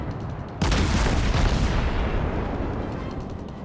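A cruiser's guns fire high explosive shells in World of Warships with a sudden loud boom. A long rumbling roar follows and slowly fades over several seconds.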